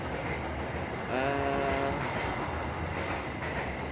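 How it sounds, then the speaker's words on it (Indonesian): A train rumbles past at a distance with a steady low roar and a brief horn-like tone, continuing throughout. "Ada yang lewat suara kereta api ya"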